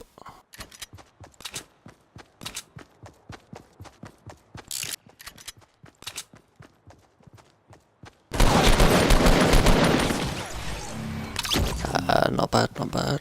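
Fortnite Battle Royale gunfire: a long run of sharp, evenly spaced shots crackles for about eight seconds, then a dense, loud burst of continuous firing and blasts fills the rest.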